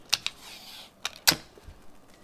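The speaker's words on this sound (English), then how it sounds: "And I'm going to just tape it right here." Heat resistant tape pulled and pressed onto a mug being prepared for sublimation, a few short crackling rips and taps, close and fairly quiet.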